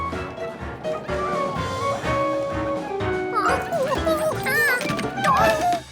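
Cartoon dogs in a Curious George episode bark and yip excitedly in an apartment, several quick barks and whimpers over lively music, loud and close.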